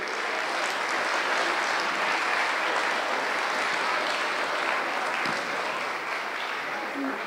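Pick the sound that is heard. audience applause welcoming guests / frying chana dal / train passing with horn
audience applause welcoming guests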